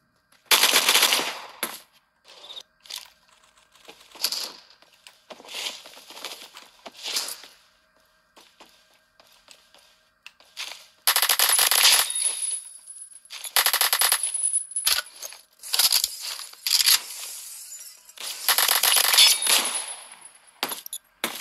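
Gunfire in the Roblox game Phantom Forces: bursts of automatic fire, loud and close, come in clusters separated by quieter gaps, with heavier sustained volleys in the second half.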